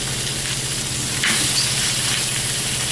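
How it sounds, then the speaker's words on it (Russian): Duck breast sizzling in a pan heated to maximum, a loud, steady frying crackle close by with a brief swell partway through, no voices. "Сковородка разогрета на максимум. Сейчас будет шкварчеть."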